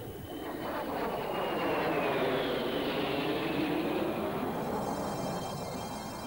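A Kestrel jump jet makes a fast low-level pass, a loud jet roar swelling from the start, peaking mid-pass with a falling whine, then easing off slightly as it moves away.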